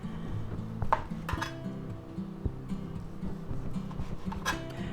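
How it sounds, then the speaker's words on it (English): A knife slices through a grilled roasted pork and cheese sandwich on garlic bread, cutting into quarter-inch slices with a few light knocks and clinks on the board and plate amid a low background hum. "let's go ahead and slice it up. Now we're going to make it like 1/4 inch slices here."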